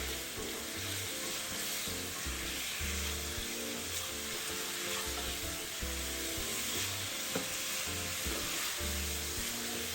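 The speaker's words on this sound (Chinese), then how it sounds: "爐火調高，快速翻炒，讓每一顆肉丸都均勻裹滿糖醋醬汁" Fried meatballs tossed over high heat in sweet and sour sauce in a wok, a steady loud sizzle with repeated scraping and stirring thumps of the spatula throughout.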